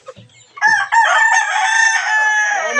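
A rooster gives a couple of soft clucks, then lets out one loud, close crow that holds for about two seconds.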